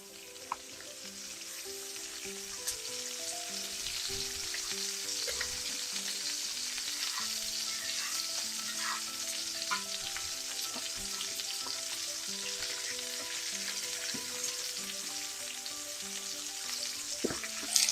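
Chicken wings frying in oil in a pan over medium heat, a steady dense sizzle with occasional stirring clinks and scrapes throughout, no voices.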